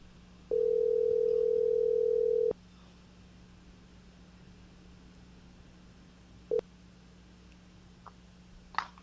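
A telephone line tone on a call-in show's phone call: a steady tone holds for about two seconds over a low background hum, and a short beep follows several seconds later.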